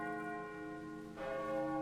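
Video game war bells ring out in sustained, resonant church-like peals, a second louder strike joining about halfway through and layering over the lingering tones.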